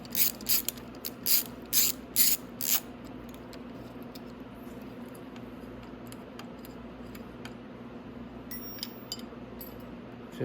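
Ratcheting wrench backing out a single 8mm bolt from the headlight bracket on a Venom 125cc motorcycle, with several quick bursts of clicking near the start, then quieter light metallic handling.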